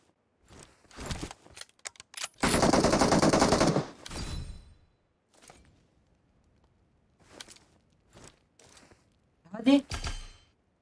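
In PUBG Mobile, sparse single gunshots crack here and there, and a loud sustained burst of automatic fire lasts about a second and a half, while a voice speaks between the shots.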